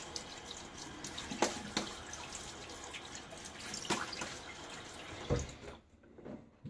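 Water splashing from a running tap as a face is wetted at a sink before shaving, a steady trickle with several louder splashes, then a sudden drop to near quiet.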